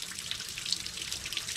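Water running steadily out of a van's radiator as the cooling system is flushed, a continuous splashing hiss like a tap filling a sink, close and moderately loud with no talk.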